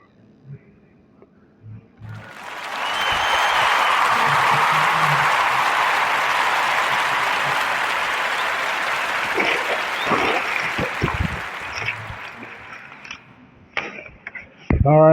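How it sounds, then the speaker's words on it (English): A full round of applause from a live audience for two guests on a podcast, rising quickly into dense, steady clapping that holds for several seconds, then thins out into scattered claps and some talk. "Round of applause for Francis and Jehu"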